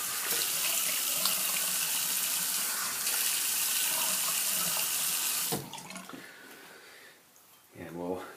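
Tap water runs steadily into a bathroom sink as a face is wetted before shaving, a loud close hiss that stops abruptly partway through, leaving quieter splashing and a brief voice.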